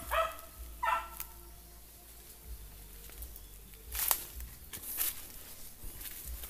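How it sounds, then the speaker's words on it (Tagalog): A dog outdoors gives two quick barks at the start, moderately close, followed by quieter rustling and a few faint sharp sounds. "Tumatahol na."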